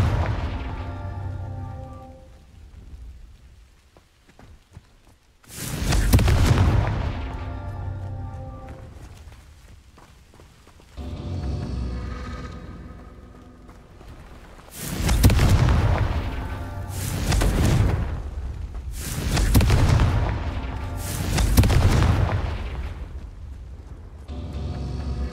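Repeated Confringo explosive spell blasts in Hogwarts Legacy, a game set at Hogwarts: a series of loud, booming detonations, one early and then four in quick succession, each with a rumbling tail, separated by quieter gaps.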